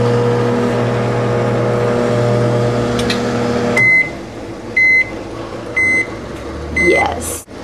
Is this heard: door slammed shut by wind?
no